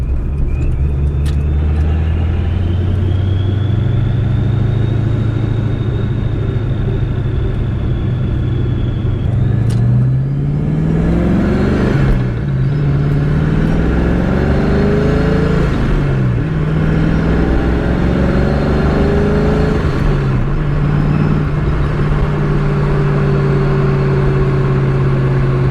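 A car with a Tremec T56 manual transmission drives steadily, its loud engine rumble rising and falling as it shifts through several gears, with a constant close, heavy road drone throughout.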